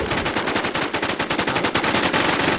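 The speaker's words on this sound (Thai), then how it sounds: "ล็อกกี้ โดนเวียดยิง" Rapid automatic gunfire from a video game, a dense rattling burst of evenly spaced shots running continuously and loudly with no talk over it.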